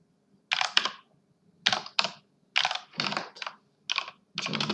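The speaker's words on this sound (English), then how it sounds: "I'm going to enter our test credit card number" Someone enters a credit card number on a computer keyboard: quick bursts of close, crisp keystrokes arrive in clusters separated by short pauses, with no voices.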